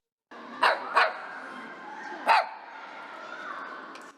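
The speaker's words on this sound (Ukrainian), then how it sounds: "Тут ще є пес і три коти." A dog barks three times, two quick barks close together and then one more after a pause, over steady background noise.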